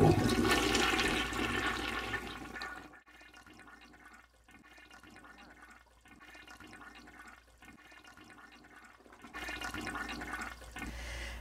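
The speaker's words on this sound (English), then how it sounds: "So when I flush it," A household toilet flushes after its tank mechanism has been adjusted, a loud rushing gush that drops after a few seconds to a quieter, gurgling refill trickle, then swells briefly again near the end.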